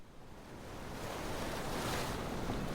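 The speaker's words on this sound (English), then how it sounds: "In the sunlight, the waves are hitting the side repeatedly and seagulls are flying overhead" Sunlit waves wash steadily against the side of a ship at sea, with a broad, continuous surf roar and a windy hiss, moderately quiet throughout.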